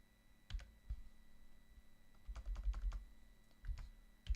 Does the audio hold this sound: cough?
no